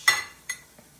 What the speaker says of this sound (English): I'm going to put it into the little glass dish